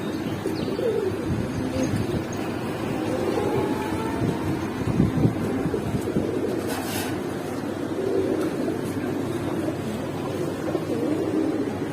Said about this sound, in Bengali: লাল গিয়ারের কবুতর কিন্তু।